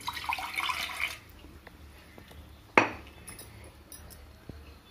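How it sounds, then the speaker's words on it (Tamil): Water poured into a cooking pot while making kova-stuffed gulab jamun, a brief close splashing stream at the start, then a sharp clink of metal or glass and quiet kitchen handling. "கொஞ்சம் தண்ணி ஊத்திடலாம்."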